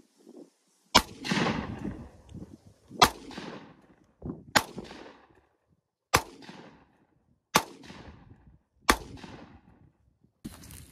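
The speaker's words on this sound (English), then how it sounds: "This is shooting a 223" An AR rifle fires .223 rounds at a Captain America replica shield: seven loud, sharp single shots spaced one to two seconds apart, each with a short ringing decay and no voices.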